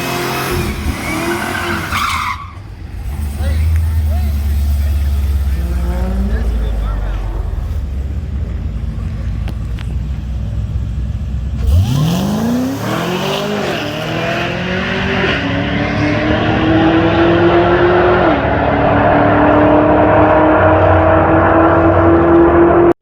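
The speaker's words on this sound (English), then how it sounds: "We're gonna bring it up to the lane and see if the car's okay." A race car at an MXA test and tune session starts up and pulls up toward the lane, its engine note rising and sweeping upward as it revs and moves off, loud and close; voices are heard early on.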